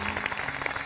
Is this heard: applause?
yes